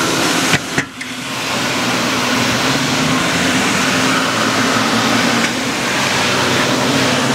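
Zipper SS Super Spinner carpet cleaning machine working a greasy restaurant carpet, a loud steady roaring whine of suction and motor after a couple of brief knocks at the start.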